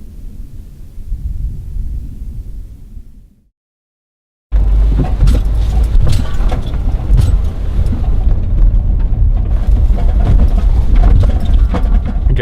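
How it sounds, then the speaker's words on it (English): A car driving down into Zion National Park gives a low rumble that fades into a brief silence, then returns as loud road and wind noise buffeting the microphone. "Driving down into the park now."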